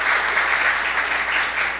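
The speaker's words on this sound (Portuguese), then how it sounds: "Vamos dar uma salva de palmas então a todos." Audience at a public hearing on the Parnamirim prison system breaks into steady, dense applause, many hands clapping evenly throughout with no voices standing out.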